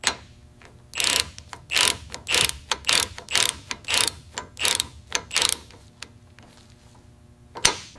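Rapid ratchet wrench clicks in repeated bursts, close and crisp, while a bracket is secured on a CH-53K King Stallion helicopter on the factory floor, with a sharp knock near the end.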